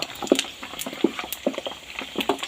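Pork rind sheets deep frying in hot oil crackle and pop in irregular bursts over a soft bubbling hiss, close and moderately loud, with no talking.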